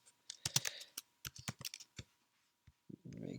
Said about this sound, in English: essentially you can just start typing in this code